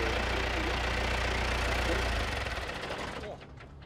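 A tractor engine idles with a steady low throb, then cuts out partway through and leaves quieter background sound behind.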